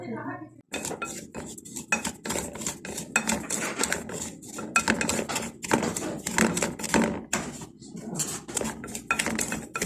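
Pot being stirred with a metal utensil during home cooking of potatoes, a dense run of scraping, clinking strokes against the pan that continues close and steady throughout, with faint voices in the background.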